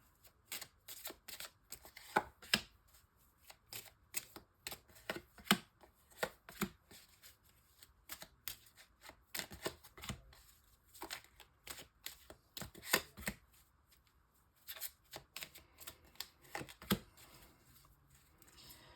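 Tarot cards being cut and shuffled close by, a quick run of crisp riffling slaps and taps that keeps going with short pauses, with no voices.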